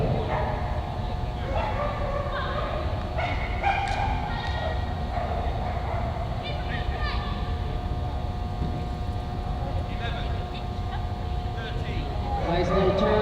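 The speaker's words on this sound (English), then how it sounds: "Up next, we're going to have Melissa Henning and her border collie, Capo." Border collie barking repeatedly during an agility run at a dog sport event, sharp barks and yips over a steady noisy arena background, with a voice speaking throughout.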